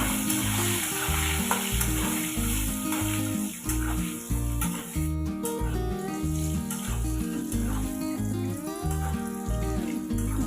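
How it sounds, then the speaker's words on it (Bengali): Potatoes fry in oil with salt and turmeric, a loud, close sizzle punctuated by regular scraping knocks of stirring, with no talking. "আলুগুলো আমি নুন হলুদ দিয়ে ভেজে নেব"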